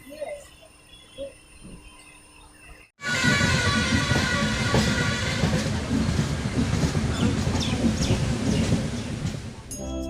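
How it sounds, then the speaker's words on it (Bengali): Kanchan Kanya Express, the Sealdah–Siliguri 13149 train, rolling on rails near Naksalbari station in North Bengal, loud steady rumble and rattle of wheels and carriages after about three seconds of quieter surroundings, continuing until the end. "আমাদের ট্রেন এসে পৌঁছালো নকশালবাড়ি স্টেশন"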